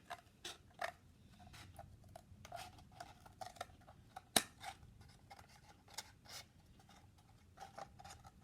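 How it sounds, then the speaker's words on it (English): Scissors cutting craft paper for a castle pencil holder: a close series of crisp snips and paper rustles in an irregular rhythm, with one sharp click near the middle, in a quiet room. "I'm just going to cut off the top there."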